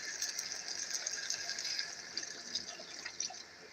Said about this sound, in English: So throw in some water.